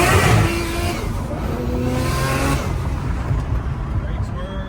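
A Nissan R33 Skyline with an external wastegate accelerates hard, the engine note rising loud and close before easing off, with bursts of wastegate flutter. Someone is talking over it.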